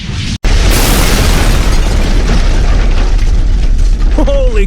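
A missile attack in an animated cartoon erupts as a loud, sustained roaring explosion right after a brief cut of silence, filling the clip with dense rumbling blast noise that fades slightly toward the end.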